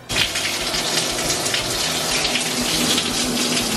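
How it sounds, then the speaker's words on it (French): Shower running at full pressure in a home bathroom, a loud, steady, close hiss and gush of spraying water with no pauses. "Le summum, finalement, c'est la douche. Je vais vous montrer la pression maximale."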